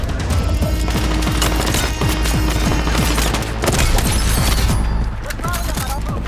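Artillery strike explosions in the video game Battlefield 6 make a dense, loud barrage of booms and rapid cracking impacts that rumble continuously throughout.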